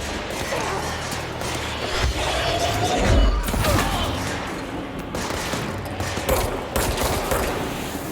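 Gunfire in a supernatural action shooter game, repeated bursts of shots and impacts with heavy thuds scattered through a chaotic firefight, someone talking over it.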